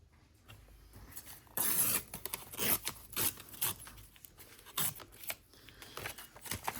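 Paper for a junk journal being trimmed, scissors snipping and rasping in a few short bursts, close and moderately loud with quiet gaps between cuts.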